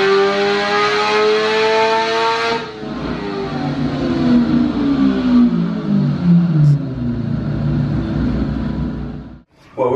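Kawasaki Ninja H2 motorcycle on a dyno, its engine roaring at high revs with sweeping pitch changes as the throttle is worked, loud and close, then cutting off abruptly near the end.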